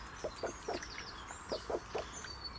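A broody hen held in a bucket of water clucks in short, repeated bursts, fairly close but quiet, over faint background noise.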